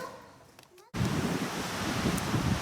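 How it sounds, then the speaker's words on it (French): Strong wind gusts outdoors beside a pool, starting abruptly after a brief quieter moment with a voice and then blasting the microphone as a loud, steady rumbling roar. "Alors, il y a beaucoup de vent"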